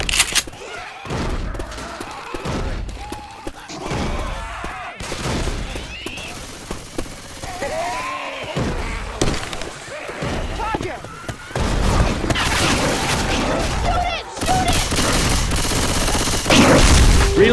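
Rapid bursts of gunfire and booms from the zombie shooter Left 4 Dead 2, dense and loud throughout, with players talking over the shooting and the firing growing heavier toward the end.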